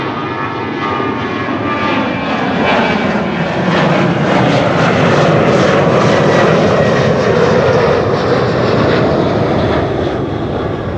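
A Ryanair airliner on a flight to Dublin at Amsterdam Schiphol Airport gives a loud, steady jet roar that swells gently and holds for the whole stretch, with no voices over it.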